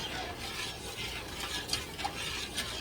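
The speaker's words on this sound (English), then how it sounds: "And I'll stir this up." Sugar syrup with cardamom and cinnamon sticks stirred in a pot, a soft continuous scraping swirl with a few faint clinks, fairly quiet and close.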